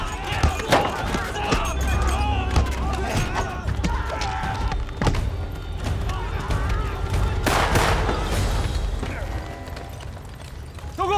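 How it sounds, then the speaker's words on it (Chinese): Rifle gunfire breaks out in a Chinese TV drama about bandit suppression, set in a military camp: several sharp, loud shots crack over a dense, noisy mix of crowd sound and mechanical clatter. "军营禁地，谁让你们开枪的？"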